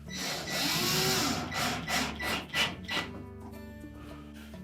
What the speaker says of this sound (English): We'll start by installing a single screw right by the latch.